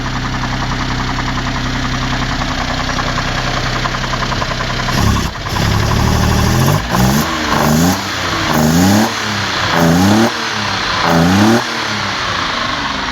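A Citroen SM engine idles steadily on fresh fuel, then is revved up and down several times in quick, rhythmic bursts, loud and close.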